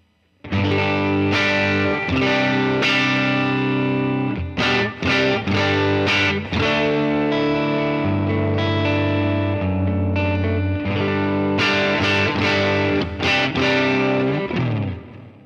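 Electric guitar played with a clean tone through an amp model on an HX Stomp, with a faint delay and reverb. Chords and single notes ring out in a steady, loud strum pattern with brief pauses, and nobody speaks.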